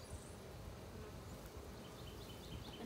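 Honeybees hum steadily around an open hive during a spring inspection, a low, quiet buzz with a few higher drones of bees passing close by.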